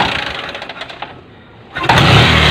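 Engine of a Bajaj CT 100 motorcycle with a fault in its ignition coil and spark, catching after a kick start: a loud rough running noise, a brief near-silent dip, then the engine roaring back up loud and steady, close by.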